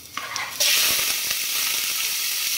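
Chili, lemongrass and galangal hit shallow hot oil with a sudden loud sizzle after a brief quieter moment, then fry steadily in a continuous bright crackling hiss close by.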